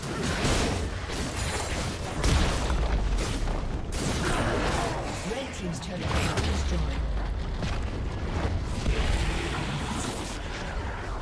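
A red team turret is destroyed in League of Legends during an Olaf versus Jax top-lane match, with heavy booming blasts and crashing impacts over a busy stream of game effects.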